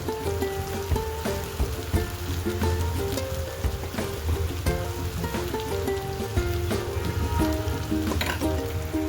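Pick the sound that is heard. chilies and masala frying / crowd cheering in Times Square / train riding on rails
chilies and masala frying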